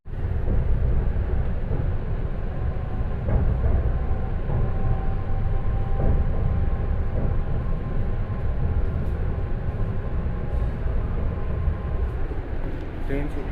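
A Mira-Bhayandar Metro Line 9 train pulls away from a station with a steady, loud rumble and hum of wheels and motors, while faint voices murmur in the background.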